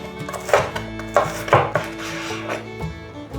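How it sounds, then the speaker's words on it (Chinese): Bitter melon is sliced with a knife on a board, making several quick, close chopping knocks with a faint clatter from dishes nearby. "把苦瓜切片。"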